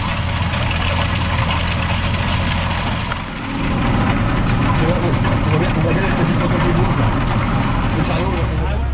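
A tractor pulls a fast stubble cultivator across a field, its engine a loud, steady low rumble with clattering implement noise that dips briefly then resumes for the whole stretch.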